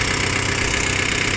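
A Japanese rear-wheel-drive tractor with power steering idles evenly at close range, a steady loud engine drone with a regular low throb and no speech over it.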